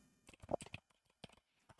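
Someone types on a computer keyboard with a brief burst of close, crisp key clicks, a quick cluster followed by a few scattered taps and short pauses.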